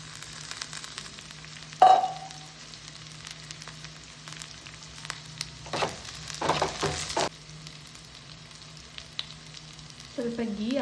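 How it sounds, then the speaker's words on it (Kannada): Curry leaves dropped into hot oil for sambar burst into a loud close crackle, then settle into a steady sizzle with a few later spurts of spattering and stirring. "ಹಂಗೆ ಸ್ವಲ್ಪ ಕರಿಬೇವು ಹಾಕೊಳ್ಳೋಣ"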